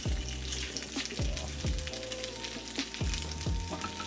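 Butter melts and sizzles in a skillet with a busy, crackling hiss that holds steady. Soft knocks of the pan are heard now and then.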